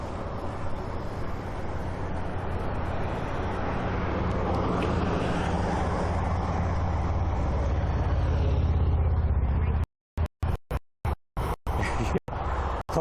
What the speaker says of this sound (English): His car was just loud.